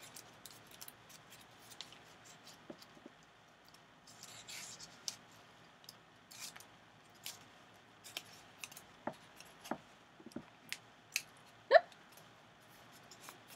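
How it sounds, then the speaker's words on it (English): Scissors snip through paper being cut into snowflakes, giving a quiet, irregular string of short, crisp cuts that grows busier toward the end, with one sharper snip standing out near the close. "I'm going to cut here, and then I'm going to cut here."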